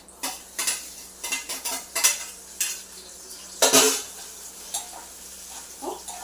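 Onions and curry leaves sizzle softly in hot oil while a utensil repeatedly scrapes and stirs against the pan in irregular strokes.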